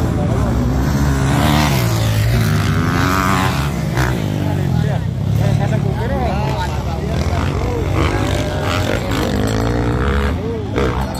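Honda CRF450 motocross bikes race in an expert production final heat at a motocross competition in Kabankalan City, engines roaring and revving in overlapping waves, with a commentator talking loudly over them.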